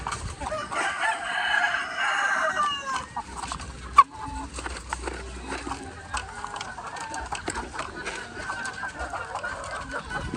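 Chickens on a farm clucking steadily while being fed, a rooster crowing near the start, moderately close, with a sharp knock partway through.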